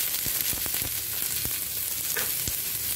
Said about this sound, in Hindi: अब इसके अंदर मैं डाल रही हूँ प्याज